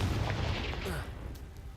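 A Confringo spell in Hogwarts Legacy detonates with a deep, booming explosion that rolls out and fades within a second or two.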